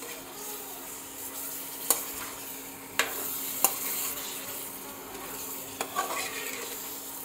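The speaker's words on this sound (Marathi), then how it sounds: "मस्त मिक्स करून घेऊ ग्रेव्हीमध्ये मटण" Mutton stirred into sizzling gravy in a pan: a steady, soft frying hiss with a few sharp clicks and scrapes of a spoon against the pan, fairly quiet and with no voices.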